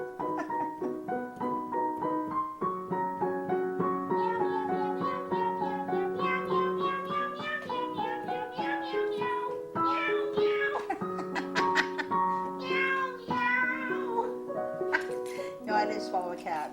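A voice sings a repeated meowing tune, imitating a cat in a cat food commercial jingle over melodic backing, the meows coming in a steady rhythmic string.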